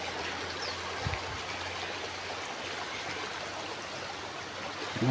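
Steady broadband rush of a river flowing continuously, close and even throughout with no voices.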